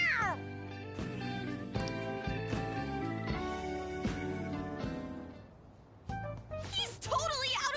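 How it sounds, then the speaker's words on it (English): Cat meowing in Persona 5 Royal, a short high mew over background music near the start and again at the end. "A cat?"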